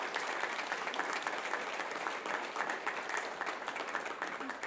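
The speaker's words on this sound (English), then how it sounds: "So we should give Trevor certainly a huge round of applause." Sustained applause from an audience at a school district governing board meeting, steady dense clapping filling the room throughout with no voices on top.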